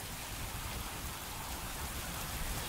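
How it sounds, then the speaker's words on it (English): Steady rain falls in a continuous, dense wash of patter, even in level from start to finish, with no voices. "There's something special about rain."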